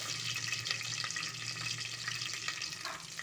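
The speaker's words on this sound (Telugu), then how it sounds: "నెక్స్ట్ కరివేపాకు వేసుకోవాలి చిట్టపొట్లు ఆడుతుంది" Cumin, pepper and curry leaves splutter in hot oil while tempering pongal, a continuous close crackling sizzle with small pops, steady and moderately quiet with no speech.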